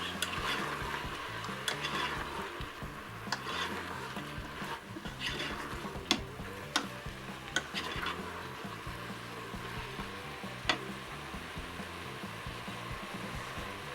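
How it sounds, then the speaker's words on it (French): Mushrooms are stirred into a pork sauté in a Moulinex Cookeo pot, with continuous sizzling and a fan-like hum beneath several sharp scraping and tapping strokes of a spoon, close up. "On va ajouter les champignons. On mélange."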